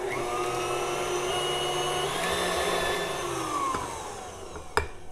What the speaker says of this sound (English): We're gonna blend this a little bit and then add the dry ingredients.